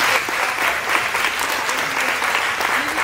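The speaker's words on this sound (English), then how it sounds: "So big round of applause for you." A crowd at a worship service claps steadily, a dense wash of applause that holds at an even level throughout, with faint voices mixed in.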